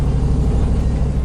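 A 1965 Ford F100 truck engine idles steadily, a dense low rumble with a faint regular pulse, close and even throughout.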